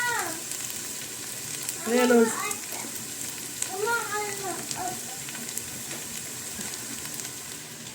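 Tomatoes blended in a mixer hit hot frying garlic in a pot, giving a steady close sizzle and crackle throughout, while someone talks briefly over the cooking.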